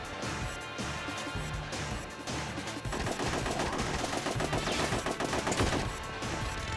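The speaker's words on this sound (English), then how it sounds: "Shooting at Robo Crab with the submachine gun." Rapid submachine gun fire aimed at a robot crab in the Ghost in the Shell PSP video game, a dense, continuous crackle of shots with clanging impacts over busy game sound, loud and sustained throughout with no pauses.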